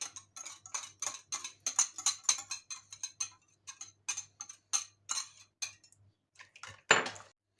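Spoon stirring cake batter with yogurt in a bowl, a rapid run of close, bright clinking taps against the bowl that slows and stops, ending in one louder scrape.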